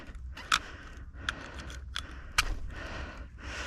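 Small knife cutting through intercom wire inside a wall, several short sharp snips and clicks spaced irregularly, close and fairly quiet against a low background hum.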